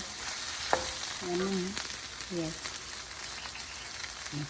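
Green chillies sautéing in a pan for green chilli thokku, a soft steady sizzle with occasional stirring scrapes, close and moderately quiet, with brief faint voice-like sounds but no clear talk.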